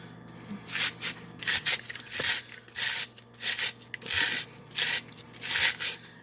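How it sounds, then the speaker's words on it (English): An onion is grated over a bowl in steady back-and-forth strokes, about a dozen rasping scrapes in a regular rhythm, close and fairly loud with no talking. "So what I'm going to do is I'm actually going to grate it."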